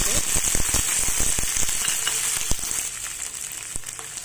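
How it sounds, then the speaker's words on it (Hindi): Cluster beans hit hot oil in a pan and set off a dense, continuous sizzle and crackle, with scattered sharp pops, close and fairly loud throughout. "सबसे पहले हम पैन में तेल लेंगे, तेल में हम"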